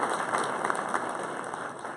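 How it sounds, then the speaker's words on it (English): Audience applause at a live show, a steady wash of many hands clapping together for about two seconds with no pauses and no voices. "So big round of applause to everyone."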